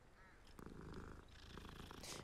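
A cat purrs in the video game Hogwarts Legacy, a soft, continuous rumbling purr, close and quiet, with faint game sounds in the background.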